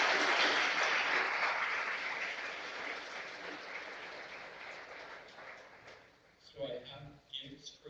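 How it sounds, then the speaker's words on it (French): An audience at a Canadian Agriculture Day event in Ottawa applauds three young women, a broad wash of clapping that is loud at first and gradually thins out, with scattered claps and voices toward the end. "j'aimerais qu'on applaudisse très fort ces trois jeunes femmes"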